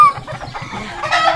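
Chickens cluck repeatedly at a farmyard in the Agusan Marsh, a steady rhythmic run of close clucks with a rooster-like call rising near the end, and no talk.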